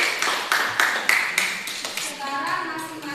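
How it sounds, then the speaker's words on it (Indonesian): A group of high school students in a class 10 classroom clap together in quick rhythmic bursts during a micro teaching lesson, then voices rise as the applause fades. "Kita berikan tepuk tangan untuk"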